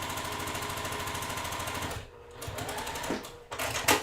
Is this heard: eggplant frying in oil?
no